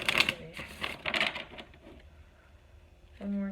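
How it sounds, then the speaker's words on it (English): Tarot cards being shuffled by hand produce a couple of crisp riffling bursts up close, followed by a quieter stretch and a brief tonal sound at the end. "One more shuffle."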